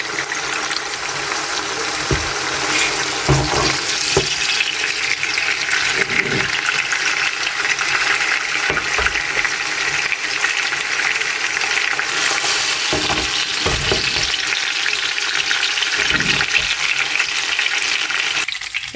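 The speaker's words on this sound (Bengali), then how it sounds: "এগুলো দিয়ে 2 মিনিটের মতো ভেজে নেব, ভেজে উঠিয়ে নেব।" Chicken pieces frying in hot oil for chicken momotaz give a steady, dense sizzle that runs for the whole stretch, with occasional soft knocks of stirring and no talk.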